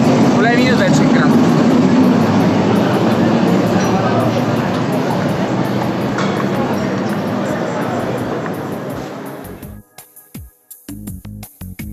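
Metro train in Rome, a loud, close rumble and roar of the carriages in motion that slowly fades over several seconds, then gives way to sharp clanks and knocks from the train and platform.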